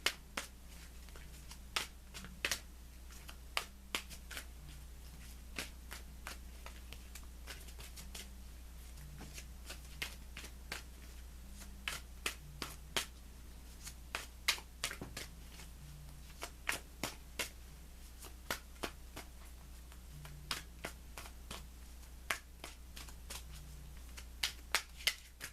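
Tarot cards being shuffled by hand, a steady run of crisp, close riffling flicks repeating throughout over a low background hum, with no voices.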